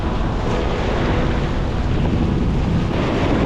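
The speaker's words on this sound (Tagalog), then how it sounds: "mahirap lang kasi makarating mga katoks kasi malakas din yung alon niya" Strong ocean waves and gusting wind while fishing from a boat at sea, a loud continuous roar of surf with heavy wind buffeting the microphone and no voices.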